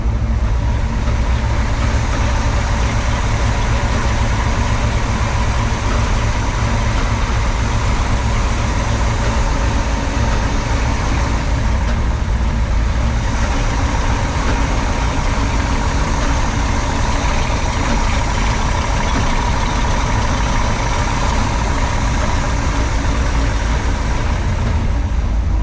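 The engines of an old yacht run steadily in a loud, continuous, even drone that holds unchanged throughout, with no voices.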